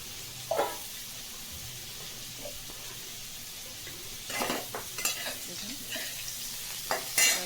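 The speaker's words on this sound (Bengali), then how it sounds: "আলুটাকে ঢেকে ঢেকে ভাজবো" Potatoes fry in a covered pan over low heat, a quiet steady sizzle with occasional scrapes, clatters and knocks of a spatula against the cookware, growing busier toward the end.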